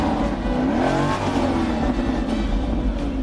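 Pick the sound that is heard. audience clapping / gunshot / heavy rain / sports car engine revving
sports car engine revving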